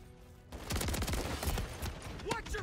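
Rapid shotgun blasts in Call of Duty MW3 fire in a dense, near-continuous volley, loud and close, with game voice callouts and chatter mixed in.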